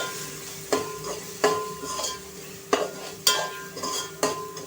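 Masala of onion masala, red chili powder, turmeric and coriander powder frying in oil for a surmai fish curry, with a steady close sizzle and a spoon scraping the pan in repeated sharp strokes.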